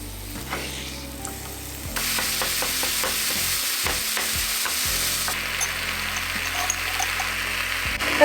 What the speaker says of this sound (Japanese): あとはもうこれを使ってお肉を焼いてトッピングするだけです